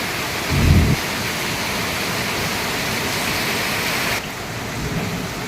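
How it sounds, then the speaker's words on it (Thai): Heavy rain pours down in a dense, steady roar with a brief low rumble near the start, falling long enough to flood a side street. "วันนี้อัปเดตนะ อัปเดตฝนตก"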